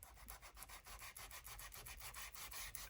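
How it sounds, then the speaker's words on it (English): A sheet of craft paper is sanded by hand in quick, even back-and-forth strokes. The raspy scraping is close and steady, with no voices. "I wonder if it sands"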